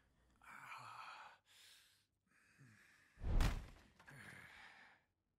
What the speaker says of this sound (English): who is breathing?